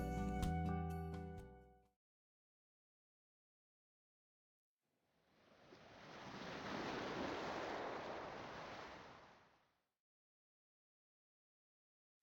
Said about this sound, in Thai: มองดูคลื่นซัดสาดแบบนี้แล้วและดูดวงจันทร์